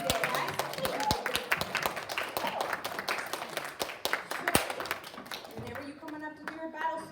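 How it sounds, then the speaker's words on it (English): An audience claps for a volunteer at a school revolution-themed walkthrough, steady dense applause with crisp individual hand claps up close, sustained throughout and thinning slightly toward the end. "Let's give Victor a big round of applause for helping us get some space today"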